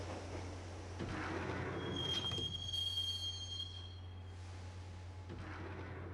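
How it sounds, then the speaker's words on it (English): Subway train ride in the video game Max Payne: a steady low rumble of the carriage with high metallic wheel squeals drawn out across the middle, continuous and fairly close, no talk. "the train doors had already shut behind me, and I was in for the ride"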